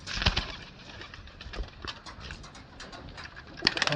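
Full-winged pigeons in a loft give soft, intermittent coos mixed with light shuffling and scratching sounds close by.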